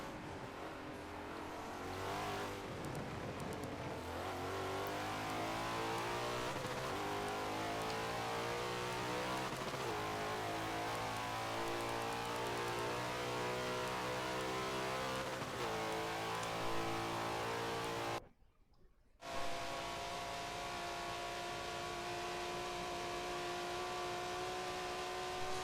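Race cars roaring around the Indianapolis circuit in a racing game during an eight-hour endurance event, with engine tones rising and falling through gear changes and passes, broken by a brief moment of silence.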